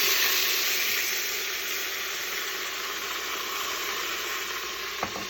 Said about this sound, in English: So we're gonna deglaze this pan with some white wine because that's what I got.